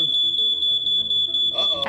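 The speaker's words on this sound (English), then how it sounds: "his smoke detector went off." Household smoke detector going off during cooking in an apartment, a loud, shrill electronic tone pulsing in quick regular beeps, with a voice breaking in near the end.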